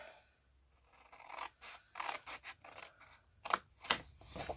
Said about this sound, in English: I'm going to cut away both of these pieces.